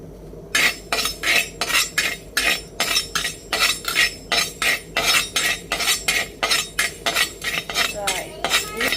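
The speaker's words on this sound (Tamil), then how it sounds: "சட்டி காஞ்சிட்டு கொஞ்சம் வெந்தயம் போட்டு வறுப்போம்" Fenugreek seeds being dry-roasted and stirred in a pan, with a utensil scraping and clinking against the metal in a fast, regular rhythm of about two strokes per second, loud and close, and a faint voice underneath.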